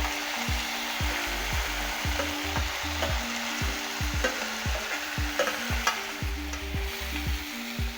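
Chopped onion frying in a hot pan for a goat intestine fry, a loud steady sizzle throughout with repeated scraping and stirring strokes of a spatula against the pan, close up and without talk.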